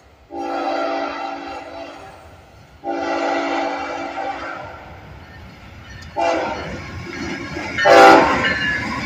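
A freight train led by a CSX Faux Bonnet Dash 9 diesel locomotive sounds two long, loud horn blasts, then rumbles past close by with rising wheel noise and clatter; a voice speaks briefly near the end.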